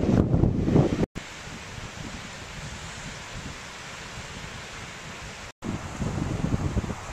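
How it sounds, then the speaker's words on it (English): Steady wind roaring over open water on the Pembrokeshire coast facing Ramsey Island, a broad rushing hiss with the low wash of surf beneath, briefly cut off twice. "The wind is working against the water"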